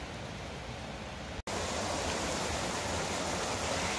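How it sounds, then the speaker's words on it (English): Walden's Creek flows steadily in front of a mountain resort cabin near Sevierville, Tennessee: a dense, continuous rushing of water, close and loud. It cuts out briefly near the middle, then resumes, with no voices. "Here's a creek right in front of our cabin."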